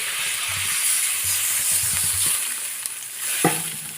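Spiced potatoes sizzle in a pan as warm water is stirred in, giving a steady hiss with soft scraping stir strokes and a sharper clink near the end.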